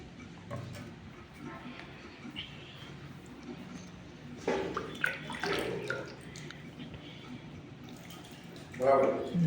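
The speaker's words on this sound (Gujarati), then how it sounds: "પાણી નાખી અને એકદમ સાફ કરી નાખીએ મંદિરને" Water is poured and sloshed across the floor of a Mahadev temple during cleaning, with splashing bursts midway and again near the end under steady indoor talk.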